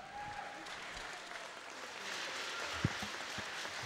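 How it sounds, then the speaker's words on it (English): Audience applause for a gold medalist at a British swimming championship, fairly faint and distant, steady clapping across the hall with a brief sharper clap near the end. "Let's have a round of applause for our gold medalist"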